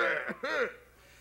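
A voice imitates coughing, producing a couple of short throaty hacks, close and fairly quiet.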